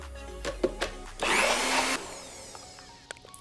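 A blender whirls black beans into brownie batter for gluten-free vegan brownies, giving a single loud burst of under a second after a few light clinks.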